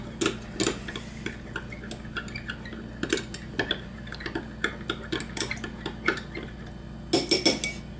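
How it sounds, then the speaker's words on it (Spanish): A spoon clinks and ticks against a dish while a mashed banana mixture with salt is stirred for a DNA extraction, in a quiet run of light irregular taps that bunch into quick clusters near the end. "Vamos a revolver un poco esto."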